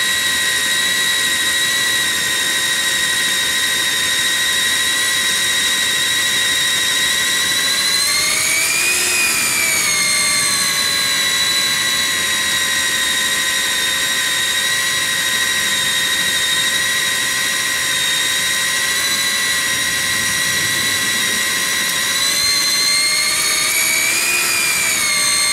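A drill bores through a 2-foot-thick, 200-year-old granite stone wall, a loud, steady high-pitched whine running the whole time with brief rising surges in pitch, and no talking.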